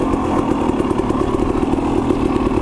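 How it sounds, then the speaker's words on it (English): A KTM 300 XC-W two-stroke dirt bike engine runs close by with a continuous, loud, rattling buzz and no talk over it. "this bike right now, oh my gosh, it is running absolutely freaking incredible"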